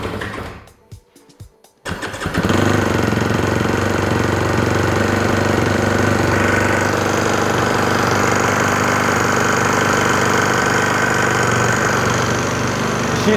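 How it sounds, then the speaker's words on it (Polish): A 2021 Kawasaki KX250 XC enduro motorcycle engine fires up after a brief sputter and settles into a loud, steady running drone with a quiet exhaust, close by and continuous. "Silnik jest głośny sam w sobie, jak jest taki cichy wydech."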